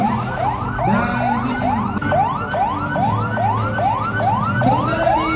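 A loud, close ambulance siren during an emergency disaster readiness drill, wailing in steady repeated rising-and-falling sweeps, roughly two per second, over a low rumble of traffic and engines.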